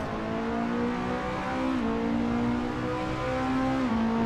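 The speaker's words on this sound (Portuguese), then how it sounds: "São motores V8." V8 race car engine in an Assetto Corsa mod, a loud sustained revving drone with harmonic tones that dip and recover as gears change, steady and close throughout.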